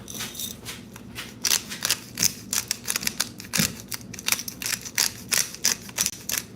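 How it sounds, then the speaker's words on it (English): A hand pepper grinder cracking black peppercorns over avocado toast, giving a close, rapid series of dry crunching clicks in short bursts, with no talking. "I'm going to keep it here and grind some black pepper."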